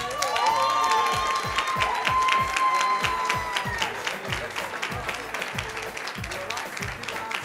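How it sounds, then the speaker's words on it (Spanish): Audience applause and cheering at an oriental dance show on a music program, a loud, steady burst of clapping and shouts over rhythmic music with a thumping beat, fading slightly toward the end. "Ese fuertísimo aplauso para ellas."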